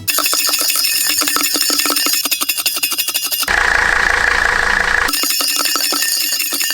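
Metal thermos packed with pebbles, shaken to mimic an old Mercedes diesel: a rapid rattling clatter in a steady rhythm, broken midway by a shrill squealing stretch, then the clattering resumes, loud and close.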